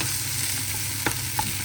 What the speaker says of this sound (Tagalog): Kaya pag uman akong gisagol ang sibuyas bombay.